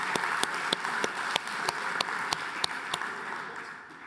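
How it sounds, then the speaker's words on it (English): An audience at a live tech showcase claps on stage, a dense steady patter of applause with a few sharper claps landing at a regular beat, easing off toward the end. "Can we get a round of applause?"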